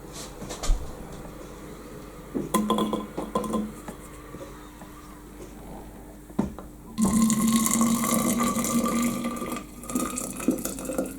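Running tap water fills a kettle for raspberry tea, a soft trickle with clinks of metal and glass before the flow strengthens into a steady loud gush for the last few seconds, with no talking.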